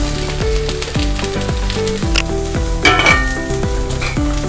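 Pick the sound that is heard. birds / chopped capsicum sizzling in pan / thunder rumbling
chopped capsicum sizzling in pan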